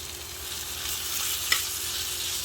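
A one-pan meal fries steadily in a pan, producing a close, even sizzle that holds throughout, with one brief sharper tick near the middle.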